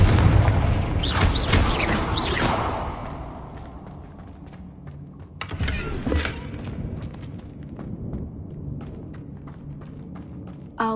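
A Confringo blasting spell goes off in Hogwarts Legacy with a loud, booming explosion that rumbles and fades, followed a few seconds later by a second thump and scattered debris-like clatter.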